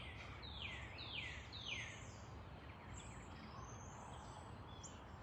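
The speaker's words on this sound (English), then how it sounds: "I don't know if you guys can hear the birds. It's always a beautiful sound." Birds sing outdoors, with a few descending chirps early on and faint calls after, set against a steady hum of background noise. No one talks.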